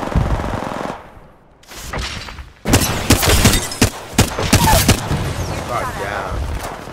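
Gunfire in the battle royale game Apex Legends, with rapid automatic bursts and sharp single shots crackling loudly after a brief lull, mixed with game effects and voices talking over the action.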